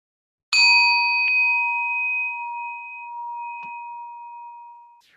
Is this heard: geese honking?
no